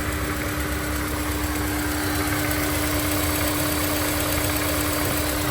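A Honda S2000 engine idles steadily and smoothly, a continuous close mechanical hum with a faint vibration and no voices over it.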